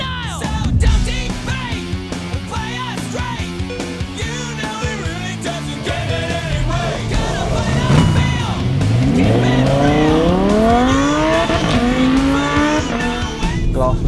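A Lamborghini sports car covered in diamonds is driven hard on a race track, its loud engine revving and rising in pitch through the gears, with tire squeal and skidding, close and continuous.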